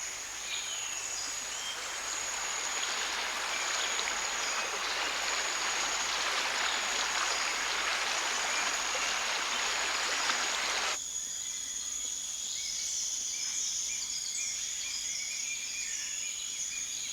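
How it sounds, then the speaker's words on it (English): Continuous soft wash of tide water returning over mangrove mud in Borneo, a steady hissing flow that drops sharply in intensity partway through and continues more quietly, with no voices. "The tide is returning."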